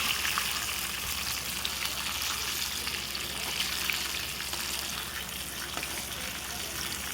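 Tilapia fish fries in hot oil, a dense, even, crackling sizzle that stays close and steady throughout with scattered tiny pops and no voices.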